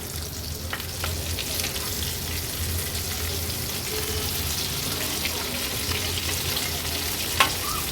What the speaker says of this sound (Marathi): आता एक एक करून ह्या तुकड्या आपण पलटून घेऊया।